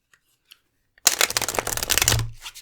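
Tarot cards are shuffled by hand in one close, brisk riffling burst of about a second and a half, following a few faint taps and with no talking over it.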